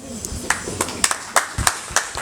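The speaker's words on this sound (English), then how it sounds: "Let us clap for her." Scattered clapping from a school debate audience, a handful of sharp hand claps at uneven intervals rather than full applause, fairly close and moderately loud.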